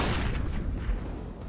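Grenades explode in a CS:GO match on the Vertigo map, a loud, close, deep boom that rolls out into a decaying rumble over a second and a half.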